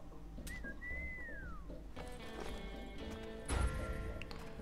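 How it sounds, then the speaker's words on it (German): A rising-and-falling whistle to summon a horse in the video game Six-Guns: Gang Showdown, followed by clip-clop hoofbeats approaching over a steady background hum. "Berühre das Pferd-Symbol, um ein Pferd zu rufen."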